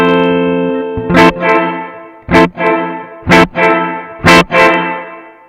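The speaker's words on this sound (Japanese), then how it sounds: "タッターンってエフェクトがかかり出すまでに時間があるのか分かりますかね。" Electric guitar through a Strymon BlueSky reverb pedal, decay at maximum: a sustained chord followed by four sharp picked notes, each leaving a long, shimmering reverb tail.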